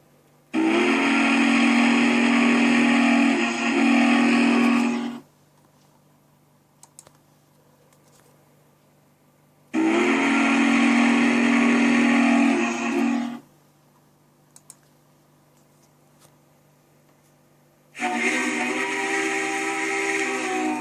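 A mountain type steam locomotive whistle in the Trainz train simulator game sounds three long, loud, steady blasts, each lasting several seconds, separated by quiet gaps with faint clicks.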